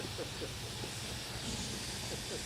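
Steady steam hiss from a model motorcycle fitted with a steam engine, a constant soft broadband rush with faint pulsing underneath, continuous and fairly quiet throughout.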